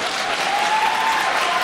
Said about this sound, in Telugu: ఒక్కసారి చప్పట్లు కొట్టి నాకు విష్ చేయించండి.